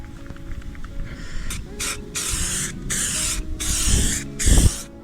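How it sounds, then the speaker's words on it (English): A can of spray adhesive hisses in several quick, close bursts while carpet lining is fixed inside a van, with handling knocks and thumps among the sprays. "I got a little bit of spray adhesive."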